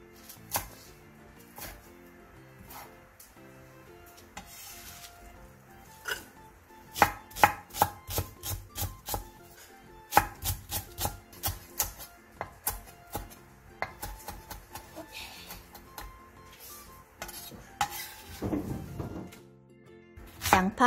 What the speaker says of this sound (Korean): 부추 한 줌을 3cm 정도 길이로 자르고 대파 4개는 어슷썰게 해주세요.